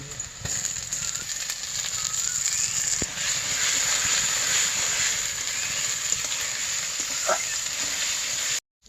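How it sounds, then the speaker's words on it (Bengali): Chopped potatoes frying in a pan while cooking a rohu fish head dish, a steady loud sizzle with occasional scraping stirs and a few clicks, then sudden silence at the end. "এবার আবার আলুটি একটু ভেজে নিন"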